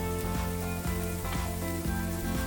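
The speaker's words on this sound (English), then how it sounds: "in a large pan, I'm going to add about 3 tablespoons of vegetable oil, and I'm going to add 1 small onion" A small onion frying in about three tablespoons of vegetable oil in a large pan, giving a steady, soft sizzle with faint intermittent stirring taps.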